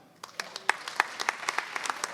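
A small comedy-show audience gives scattered, sparse claps, about a dozen distinct hand claps in a short, thin burst that tapers off.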